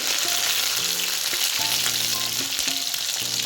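Fenugreek seeds, curry leaves and garlic fry in sesame oil for a fish curry, giving a bright steady sizzle with scattered spits and pops and a few metallic clinks of a stirring spoon.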